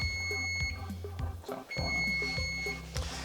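An electronic kitchen timer beeps in a repeating pattern of short high tones while orzo cooks, set against low kitchen background noise.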